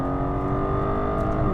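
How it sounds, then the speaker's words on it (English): An Aston Martin DB11 AMR's V12 engine revs hard after a downshift, a loud, continuous, richly layered roar held close and steady throughout. "you've also got that amazing sounding V12 if you want it"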